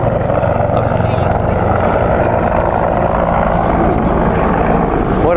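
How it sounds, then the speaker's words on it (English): A helicopter circles overhead, its steady rotor drone running loud and continuous throughout, mixed with outdoor street noise during a walk. "Choppers in the air."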